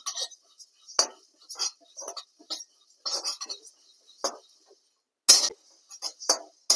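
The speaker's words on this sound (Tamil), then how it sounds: "பொட்டுக்கல்லையும் நல்லா வறுத்துக்கலாங்க." Roasted gram (pottukadalai) stirred in a hot pan while roasting for idli podi: a stream of irregular scraping clinks and rattles of a utensil against the pan, close and moderately loud, with brief quiet gaps between strokes.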